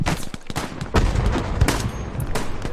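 Rapid machine gun bursts in the WWII shooter Hell Let Loose, loud and close, with sharp repeated cracks and booming reports layered over steady battlefield rumble.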